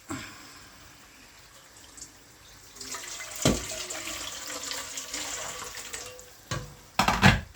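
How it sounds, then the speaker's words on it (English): Water runs from a kitchen tap into a bowl during dinner cooking, a soft hiss that strengthens midway, with a few clunks and splashy bursts near the end. "Then we add some water into the bowl"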